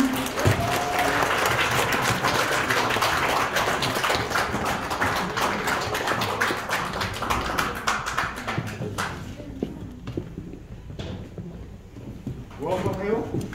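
A dense wave of applause from an audience at the founding general assembly of a Korean forum, welcoming a National Assembly member to the stage, loud and sustained before thinning out near the end, with voices mixed in.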